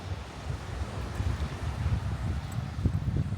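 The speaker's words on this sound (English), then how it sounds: "It's windy." Steady summer wind in New Zealand buffets the microphone, a constant low roar with gusty swells and no voices.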